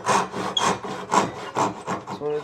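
A hand saw cuts off a wooden tenon in steady back-and-forth strokes, about five rasping pulls in a regular rhythm, close and clear with no voices.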